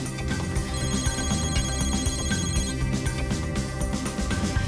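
A telephone rings with a melodic, tonal ringtone in a Peruvian TV comedy scene, playing continuously and fairly loud for several seconds with no talking over it.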